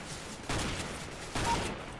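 Two sharp shots ring out about a second apart from a sniper rifle in Counter-Strike: Global Offensive, each a sudden loud crack with a short, rough decay over low game ambience.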